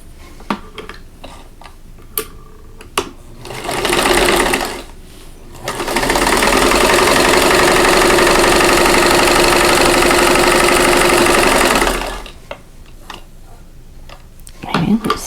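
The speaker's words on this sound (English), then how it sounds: "So I'm going to chain piece these together." A sewing machine chain-pieces quilt blocks. It starts with a short run, then a long loud stretch of fast, even stitching, with scattered clicks and handling noises before and after.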